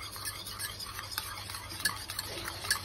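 Homemade chamois cream, chilled and partly set, being stirred in a container, producing close, soft scraping and wet churning with faint clicks of a utensil against the sides, with no one talking.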